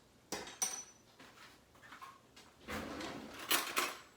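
Metal cutlery clatters and clinks as a fork is fetched from a kitchen drawer, with a drawer sliding and several sharp rattling bursts, fairly quiet and close, no speech.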